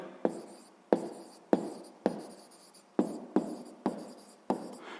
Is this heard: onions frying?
no